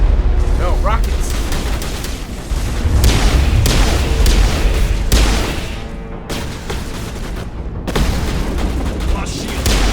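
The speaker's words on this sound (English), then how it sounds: "No, rockets!" Rocket explosions in Mass Effect come as a series of loud, heavy booms and blasts in rapid succession, close and overlapping across the whole stretch, with a short shouted voice among them.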